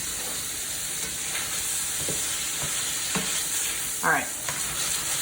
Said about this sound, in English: You don't want to overcook shrimp, but also don't want them to come out of the pan.